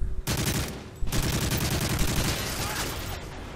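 Rapid automatic gunfire in Call of Duty Modern Warfare 3 crackles in dense bursts, loud and close, with a short gap before a longer sustained volley that tapers off.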